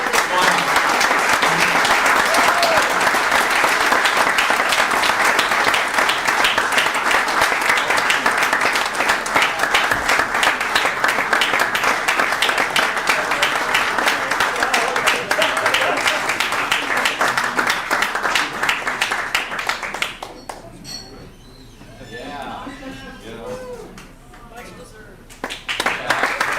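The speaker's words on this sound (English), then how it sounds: "I want to give a round of applause to Scott Garber and Alex Mayer" Sustained applause from the audience at an organization's annual meeting, loud and dense for about twenty seconds, then fading into quieter scattered claps with faint voices underneath before swelling again.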